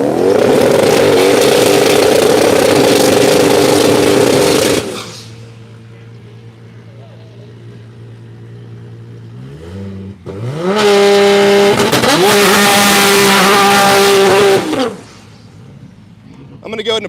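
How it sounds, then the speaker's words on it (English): A Nissan GT-R race car stages at a street takeover in Tulsa, engine revving loud and close in two long bursts with a quieter idling lull between, rising and falling pitch sweeps, crowd noise faint underneath. "Kenny Trent staging right now in Trevor's GTR"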